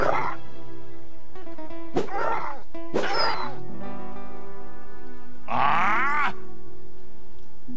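A dog in the PC role-playing game Lionheart: Legacy of the Crusader grunts and barks in a few short bursts during combat, over a steady game music bed, with a louder yelping burst near the end.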